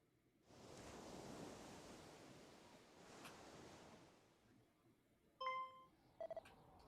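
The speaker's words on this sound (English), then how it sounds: "I hear waves." Ocean waves wash in a seaside scene of the video game Dragon Quest 2 HD-2D, a steady hissing surf swelling and fading over several seconds, followed by short electronic beeping tones.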